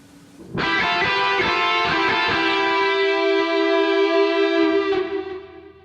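Electric guitar playing a simple scale melody with a harmony line a third above, both parts together: a run of picked notes, then one long note sustained and ringing out, alone with no talk.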